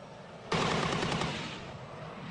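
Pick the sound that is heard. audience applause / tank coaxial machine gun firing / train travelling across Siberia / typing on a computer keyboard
tank coaxial machine gun firing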